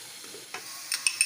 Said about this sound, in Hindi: ये देखिए हमारी प्याज ज़बरदस्त सी गोल्डन ब्राउन हो रही है